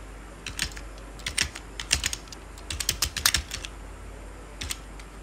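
Someone types on a computer keyboard close by in quick uneven bursts of sharp clicks and clacks. There are short pauses between runs, over a quiet steady hum, with no voices.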